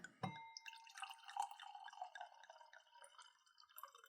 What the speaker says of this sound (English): so let me pour your glass here